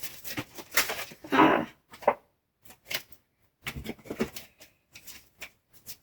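Tarot cards being shuffled by hand, irregular bursts of riffling and soft slaps with short gaps between them, close to the microphone and fairly quiet, with no talking.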